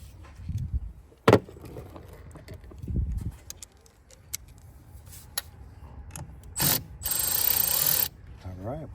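A ratchet clicks in short bursts while loosening the battery hold-down on a 2019 Chevy Silverado truck, with brief metallic knocks and a longer run of rapid clicking near the end, fairly close and moderately loud.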